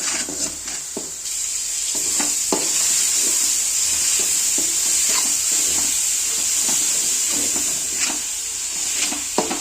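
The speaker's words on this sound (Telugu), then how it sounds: "వేయించాలి మసాలా బాగా ఎగాలి" Masala frying in hot oil for Telugu-style fish curry, a steady loud sizzle and hiss with irregular scraping stirs of the spoon against the pan.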